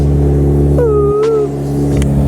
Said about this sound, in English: I don't even think you guys are gonna be able to hear me with the wind noise and then this loud exhaust.